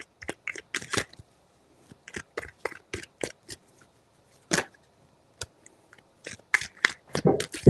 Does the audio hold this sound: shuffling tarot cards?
yes